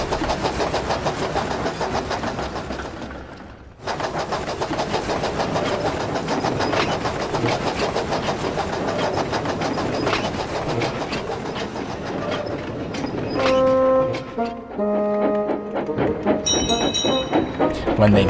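A cartoon sound effect of a train engine and a bus braking: steady rumbling, clattering rail noise with a short gap, then shrill squealing tones as the brakes come on, loud and close.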